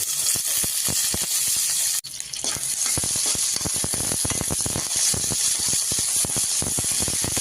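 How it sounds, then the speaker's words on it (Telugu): Green chillies spit and crackle in a little hot oil in a kadai, a dense close sizzle with rapid popping bursts and a brief dip in the sound near the start. "రెండు స్పూన్లు నూనె వేసుకుంటున్నాను ముందుగా పచ్చిమిరపకాయలు"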